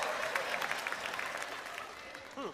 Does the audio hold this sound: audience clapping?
yes